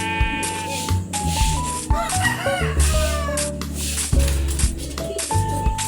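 A chicken clucks repeatedly at close range in a game, its calls coming in short bursts over a steady bed of layered tonal background sound, with no talk.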